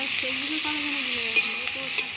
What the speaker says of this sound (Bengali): তো দেখো আমার পেঁয়াজ আর টমেটো কাঁচা লঙ্কা ভাজা ভাজা হয়ে আসছে